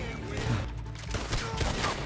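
Gunfire in a Red Dead roleplay Western shootout, sharp shots and a rattling burst crackling over a dense, noisy game mix, with faint voices mixed in.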